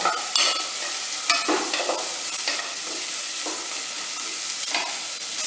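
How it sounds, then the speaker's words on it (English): Onions and ginger sauté in a pan for soya shaami kebabs, a continuous crackling sizzle broken by several sharp stirring scrapes, close up and without speech. "Saute this a little bit till the onions turn a little"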